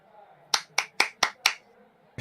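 One person claps five times in a quick, even rhythm, the sharp close hand claps standing alone against a quiet background.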